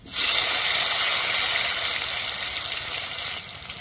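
Whole dried red chillies and chopped tomato hit hot oil in a pan, giving a loud, close, continuous sizzle and hiss that eases slightly toward the end.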